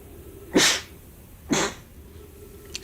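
Two sneezes ring out close and loud, about a second apart, each a sharp burst of breath over a steady low background hum.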